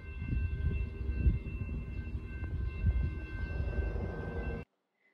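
A freight train rumbles past a level crossing near a marina beside a new train station, a steady loud low roar with some clanking that holds for several seconds before cutting off abruptly.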